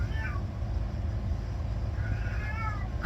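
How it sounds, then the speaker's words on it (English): A cat meows twice, once briefly near the start and again with a longer, wavering call near the end, over low background hum. "That's my cat."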